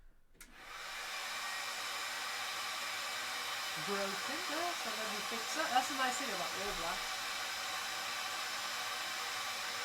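A loud, steady rush of blowing air from a heat gun heating cosplay shoe armour starts abruptly and runs continuously, with someone talking faintly underneath.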